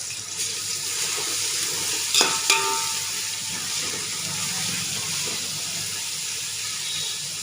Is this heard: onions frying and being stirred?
yes